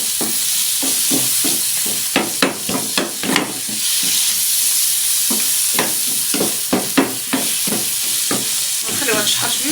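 Spinach and chicken fry in a pan with a steady close sizzle, broken by repeated scraping knocks as the food is stirred and turned in an irregular rhythm.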